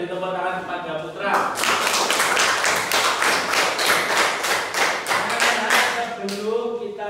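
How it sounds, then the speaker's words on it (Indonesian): A primary school class claps together in a loud, steady burst of applause lasting several seconds, with voices heard briefly before and after. "beri tepuk tangan"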